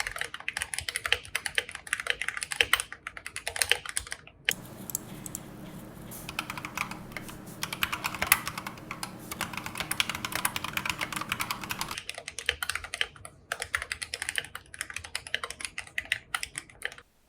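Rapid typing on a custom-built mechanical keyboard with a deep, thocky tone: dense clusters of close, crisp keystrokes, a brief pause in the middle over a low hum, then resumed steady typing.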